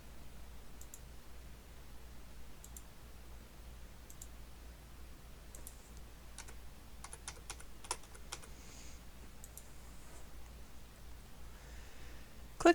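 Computer keyboard typing in a quiet room, scattered clusters of faint key clicks with short pauses between bursts, alone with no voices.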